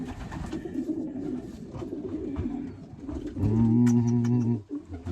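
Racing pigeons cooing in a basket while being basketed for a race, close and fairly loud, with soft bird calls and a burst of rising coos toward the end, heard under and between a person's talk.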